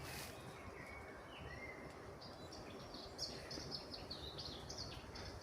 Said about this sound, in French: En tout cas, on entend bien les oiseaux.